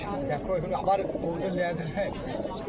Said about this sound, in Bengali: আজকের হাটে অনেকেই খোপ নিয়ে কবুতর এসছে, প্রত্যেকটা খোপে কবুতর আছে